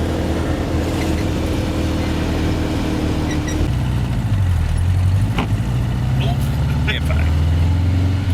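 A modified Volkswagen Beetle drives along with a steady, rumbly engine drone, its pitch dropping and shifting midway as the car changes speed, with a voice talking over the noise.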